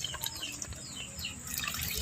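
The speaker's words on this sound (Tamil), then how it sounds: "இப்போ தேவையான அளவு தண்ணி வந்து கால் லிட்டரு வந்து ஊற்றிக்கிறோம்" About a quarter litre of water is poured into a thick Chettinad-style murrel fish curry, giving a faint, steady splashing trickle with light dripping throughout.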